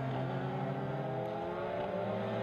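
Caterham race cars circle a wet circuit in the rain, their engines droning loudly and continuously with a steady, layered roar and no pause.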